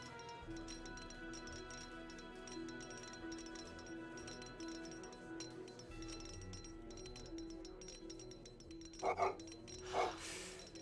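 Barking dogs in the Age of Empires 3 strategy game, a couple of short sharp bursts late on over a steady wash of in-game ambience and faint clinks.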